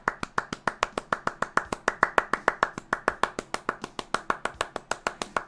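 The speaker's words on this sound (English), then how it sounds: "Round of applause for Orin Slayer." A round of applause from a single pair of hands, clapping at a steady rhythm with about five crisp claps per second. The claps are close, moderately loud and alone, with no talk.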